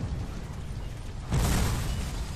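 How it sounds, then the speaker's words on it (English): Barrel explosion wrecking cannons at Bull Run in the Civil War: A Nation Divided video game: a sudden broad burst midway through, with the blast's rumble carrying on to the end. "You don't want to be anywhere near this explosion."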